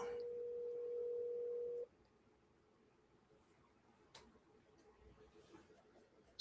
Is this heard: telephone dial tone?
yes